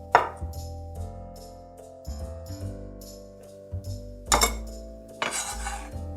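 Boiled eggs are cut with a knife in a kitchen, producing a few scattered knocks and clinks of blade on board and dishware over quiet background music.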